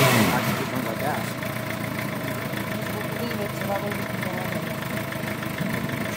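A 2008 Suzuki GSX-R 750 motorcycle engine idles roughly and unevenly, a steady close-up rumble with a slight irregular pulse throughout, with voices faintly in the background.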